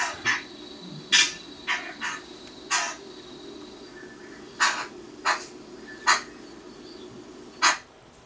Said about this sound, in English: So the brown thrasher is another one of the mimics.